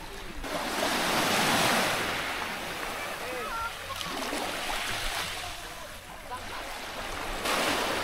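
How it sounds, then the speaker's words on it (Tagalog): Gentle sea waves wash onto a calm beach at Sulok Beach in General Nakar, Quezon, a soft continuous surf with light wind noise, distant voices and a faint boat-like hum. "Kalmado ang dagat, hindi gaanong malakas ang alon dito."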